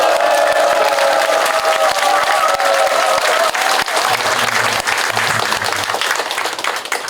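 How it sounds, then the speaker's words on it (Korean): Loud crowd applause with cheering at a Korean political campaign rally, dense steady clapping throughout with shouts mixed in and a brief voice near the end. "커다란 박수와 함성을 부탁드립니다."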